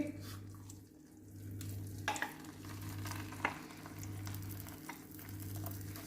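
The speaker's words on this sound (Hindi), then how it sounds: "और इसमें हमें भूनना है इसको। इसे लगातार चलाना है जब तक ये सुनहरा ना हो जाए" Poppy seeds roasting in ghee crackle softly while a spoon stirs them in the pan, with faint scrapes over a low steady hum.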